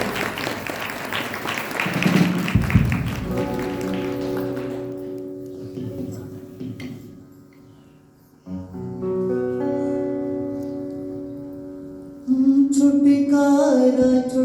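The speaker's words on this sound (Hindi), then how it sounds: "परमेश्वर के बड़े कामों के लिए जोर से ताली देंगे।" A church congregation claps loudly at an Epiphany Day worship service, a dense burst of applause at the start, followed by sustained musical tones and singing.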